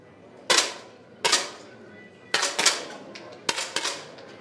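Rifle shots at the 2019 European Youth League rifle bronze match: five sharp, close cracks fired at irregular intervals, each a short snap with quick decay over a quiet hall background.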